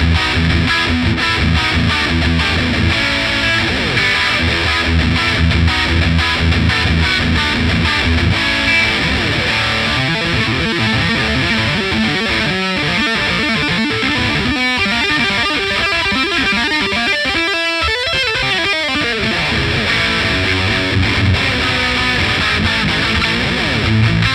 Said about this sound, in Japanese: まだドライブが真ん中なのに、ドライブが真ん中なのに、すげえ歪み量。